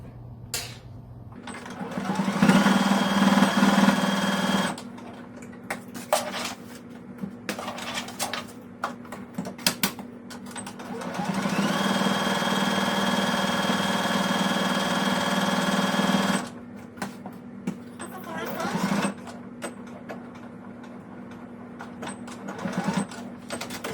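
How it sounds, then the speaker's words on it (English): A sewing machine back stitches elastic onto a fabric coffee cup cozy, running in two sustained bursts of rapid mechanical whirring separated by pauses filled with light clicks and handling noises. "I'm going to do back stitch on the elastic just to make sure that the elastic is well secured into the project."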